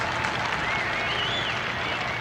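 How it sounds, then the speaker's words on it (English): Fans applaud at a 1988 Syracuse versus UMass lacrosse game, a steady wash of clapping and crowd noise heard at a distance throughout, with a commentator speaking faintly over it. "the fans applaud that effort"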